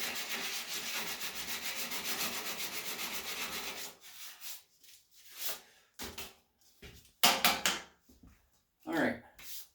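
Rhythmic back-and-forth sanding on the dashboard of a 1978 Ford F100, steady and close for several seconds, then giving way to scattered rubs, knocks and handling noises.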